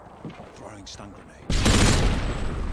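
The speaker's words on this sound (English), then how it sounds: "Stun grenade." A stun grenade goes off in Call of Duty: Modern Warfare 2, a sudden loud, broadband burst that hits midway and rings on, following a stretch of quieter muffled gunfire and game chatter.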